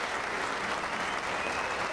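A crowd at a ten-pin bowling World Masters match in Barnsley applauds, a dense, steady burst of clapping filling the whole moment at even loudness.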